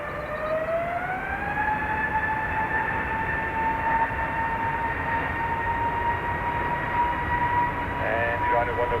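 A jet airliner at Dublin Airport, its engine whine holding steady and slowly rising in pitch, loud and continuous over steady background roar.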